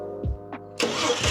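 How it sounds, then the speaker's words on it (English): An old barn-find car's starter whirs in a brief crank before the engine catches and fires, settling into a loud, rough, close running roar; no talking. "we didn't think it would even crank over the way it just did. And we were even more surprised that it fired second crank."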